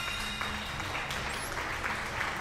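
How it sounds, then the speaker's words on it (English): A short burst of applause as an inserted sound effect, steady and moderately faint, with no talking. "Thanks for the applause."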